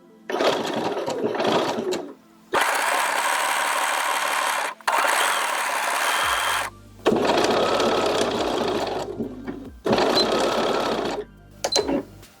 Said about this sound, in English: We're going to begin from the notch and blend the seam into the overlocker on the armhole.